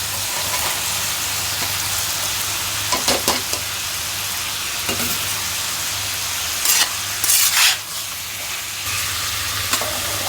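Potatoes frying in a small amount of oil give a steady, close sizzle with occasional stirring scrapes and louder bursts, no talking over it.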